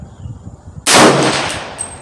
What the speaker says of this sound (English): Second shot with a 300 blackout